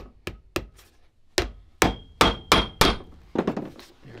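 Hammering 2.5 ounce lasting tacks into a Red Wing Iron Ranger boot being rebuilt as a logger, a string of about a dozen sharp, close hammer strikes at an uneven pace, with a quick cluster near the end.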